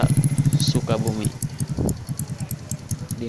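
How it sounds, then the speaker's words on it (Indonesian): A motocross motorbike riding along a slippery dirt road under construction on the Sukabumi northern ring road, the engine putting out a rapid pulsing putter close by. Someone talks over the engine. "dilalui oleh motor cross"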